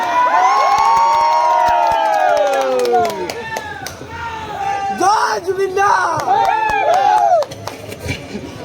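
An audience at a ceremony honouring Zubeen Garg breaks into loud, sustained cheering, with shrill shouts and scattered claps. The noise swells, eases briefly near the middle, then surges again.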